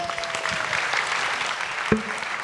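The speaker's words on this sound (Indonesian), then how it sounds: "Tepuk tangan lagi dong buat Zoya" A studio audience applauds at a talk show, a steady wash of many hands clapping at moderate loudness across the whole stretch, with one brief sharper knock near the end.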